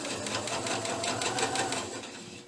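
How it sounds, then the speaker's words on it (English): A sewing machine stitching a seam in paper piecing, a rapid, even mechanical chatter of needle strokes running steadily and close, without speech. "So now we'll just sew that seam there"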